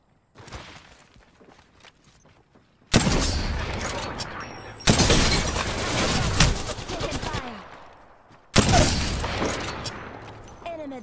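Gunfire in the battle royale game Apex Legends arrives in three loud bursts of rapid automatic shots, separated by quieter stretches with faint scattered shots. Voices speak briefly in between.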